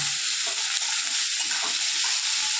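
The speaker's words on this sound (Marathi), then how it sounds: "कांदा चांगला गुलाबी होईपर्यंत परतून घ्यायचा." Chopped onion with curry leaves sautéing in hot oil in a pan, a steady close sizzle with faint stirring scrapes, no talking.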